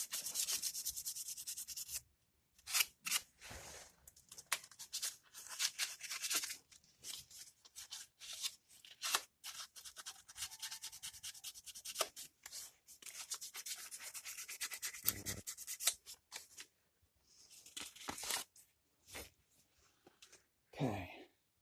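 Scraping on a carburetor mounting surface to clean off old gasket material before fitting a new gasket on a single-barrel carburetor, heard as repeated bursts of rasping strokes with brief pauses between them, close and fairly quiet.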